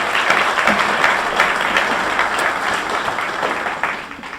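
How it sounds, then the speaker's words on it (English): An audience at a football complex dedication ceremony gives a sustained round of applause, dense and loud at first, then thinning and fading toward the end. "Let's give Frank another round of applause for that"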